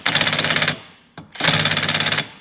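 A Stihl chainsaw with a modified muffler roars in two loud, raspy full-throttle bursts, separated by a short drop to idle, very close.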